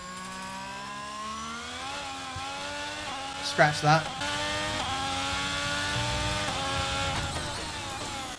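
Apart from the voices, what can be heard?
Alfa Romeo C43 F1 car engine, from F1 22 video game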